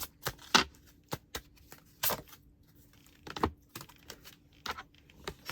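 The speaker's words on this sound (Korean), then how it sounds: "물병분들에게 필요한 조언 카드 뽑아볼게요" Tarot cards drawn from a deck produce a series of brief, crisp papery slaps and rustles at an irregular pace, close and moderately loud with quiet gaps between them and no talking.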